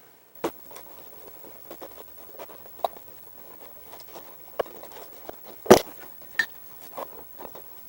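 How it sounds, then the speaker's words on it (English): A blade cuts a hole in the ceiling headliner of a Sprinter van for lights, giving faint, close scratching and crackling with scattered sharp clicks and one louder snap. "So now we're going to go ahead and cut the next hole"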